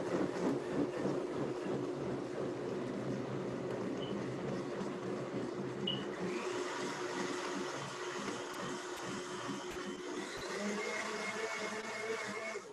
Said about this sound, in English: I'll close the blender and then Ashutosh is going to blend it.